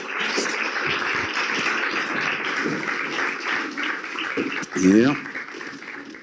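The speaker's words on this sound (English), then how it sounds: "Under your applause," An audience applauds to welcome the writer Hamid Ismailov on stage, a steady wash of clapping that runs under a speaking voice throughout.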